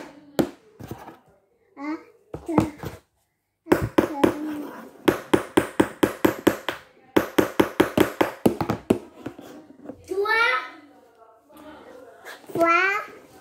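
A child hammers with a handheld object while making a DIY notebook, producing bursts of sharp, rapid close taps in quick rhythmic runs, separated by pauses and mixed with children's voices.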